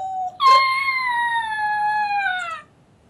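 A female dog howls like a wolf, holding one long, wavering note close to the listener for over two seconds after a brief lower whine, then falls silent.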